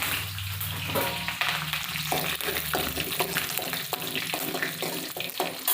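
Mustard seeds, asafoetida, dried red chili and curry leaves sizzling in hot oil for village-style rasam, a loud continuous crackle and spit with sharp pops and stirring clatter throughout.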